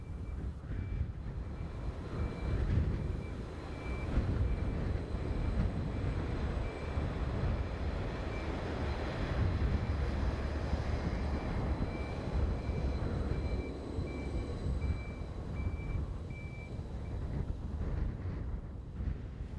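A passenger train on the 11:50 Peterborough to Ipswich service rumbles past at steady volume for about twenty seconds, a broad low rolling roar with buffeting wind noise on the microphone and a faint sustained tone above.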